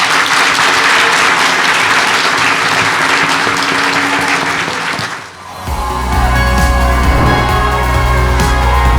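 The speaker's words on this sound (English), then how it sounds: "can we give these young ladies a round of applause" Audience at a college-choice workshop giving a loud round of applause, dense clapping that fades briefly around the middle and gives way to music with a low bass beat.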